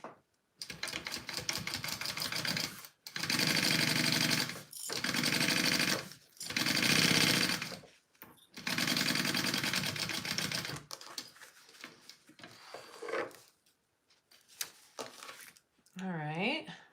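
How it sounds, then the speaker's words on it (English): A sewing machine basting across the top of a fabric pocket runs in several loud, steady bursts separated by short pauses, followed by quieter handling noises and brief speech near the end. "I'm just gonna baste the top of this pocket."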